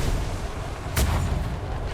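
A single ship's cannon fires at an island in the video game Atlas, one sharp, loud boom cutting through a steady rumbling background of wind and sea.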